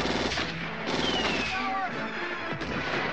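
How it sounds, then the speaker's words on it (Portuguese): Dense gunfire from an island shootout in the action film American Ninja 2, rapid bursts and shots layered over a constant loud soundtrack mix, with whistling tones and crashing impacts throughout. "chegam à ilha e começam um tiroteio generalizado."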